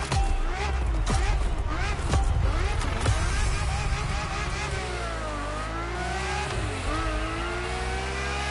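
A Ferrari F50 in The Crew Motorfest revs hard through rising and falling engine sweeps, loud and close, while a voice talks over it.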